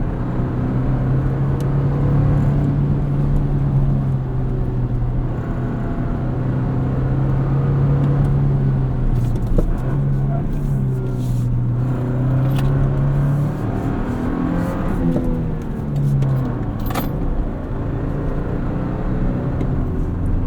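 A 2024 Toyota Tacoma with a six-speed manual runs at full throttle in third gear around 2,500 RPM, producing a loud, steady engine drone over road rumble, heard close and with no talking.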